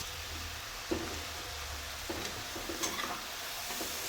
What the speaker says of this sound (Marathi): मस्त आता परतून घ्यायचं आहे.